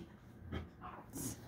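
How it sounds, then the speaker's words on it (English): A dog that is agitated and freaking out lets out a few short yips and whimpers indoors, fairly quiet and close, in brief bursts separated by pauses. "That's my dog. He's freaking out."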